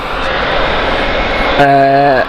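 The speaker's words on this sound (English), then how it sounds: "EasyJet Airbus A319." An EasyJet Airbus A319 jet at Gatwick Airport, a loud steady engine roar with a tonal whine that rises in strength partway through, heard nearby.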